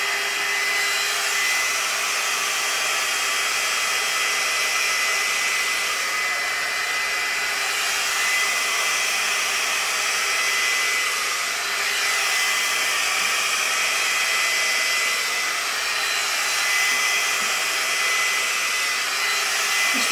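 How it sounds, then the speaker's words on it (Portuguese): A GHD Duet Style 2-in-1 hot air styler dries wet hair with a loud, constant whooshing blow of air. The steady roar runs unbroken for about twenty seconds with no voices. "mas já está a secar o cabelo. Sinto bem que tenho um aspirador ao pé da cabeça"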